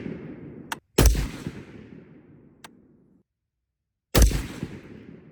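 Two sharp, loud rifle gunshots fired with cheap non-match ammunition, each followed by a rumbling echo that decays over about two seconds, with faint clicks between shots and no speech.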